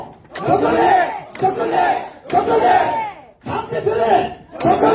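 A political rally crowd chants a party leadership candidate's name in unison, five loud rhythmic shouts separated by short pauses, close and powerful.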